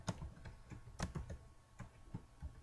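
Tab key strokes on a computer keyboard during form entry: faint, close clicks in an irregular rhythm of a dozen or so taps, alone in a quiet room.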